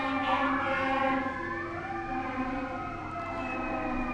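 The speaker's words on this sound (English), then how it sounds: "pardon the siren coming by" A passing vehicle's siren wails close by, its sweeping tones sliding up and down and fading slightly as it moves off, heard alone with no talk over it.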